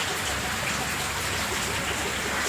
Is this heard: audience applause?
no